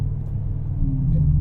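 Low, steady engine rumble with a faint rising tone near the end, like a big engine idling and lightly blipped, close by: a BMW M6 with a naturally aspirated V10.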